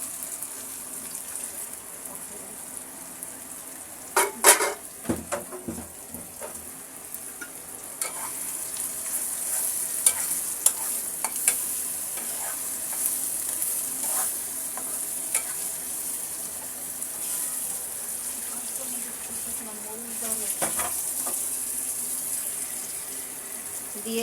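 Ground ridge gourd peel is stirred into browned onions in a hot pan, giving a long, soft sizzle with scattered scraping and clattering spoon strokes, heard close up and without talk.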